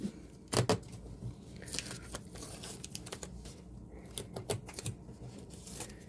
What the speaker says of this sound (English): so I'm going to go ahead and remove the tape